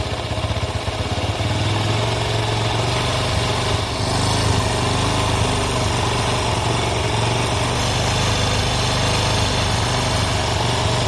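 A TVS Apache 160 RTR motorcycle engine runs close by while its idle screw is turned to raise the rpm, producing a loud, continuous, steady drone with no talking.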